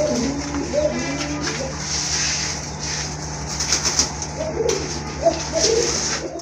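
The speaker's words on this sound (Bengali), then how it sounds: "খুবই ভালো ডাকে, খুবই কোয়ালিটি সম্পন্ন এক জোড়া কারণ আমাদের কবুতর" A pair of pigeons call with low, bubbling coos in a few short bursts over a constant hum and hiss, close by, with faint rustling that may be wing movement.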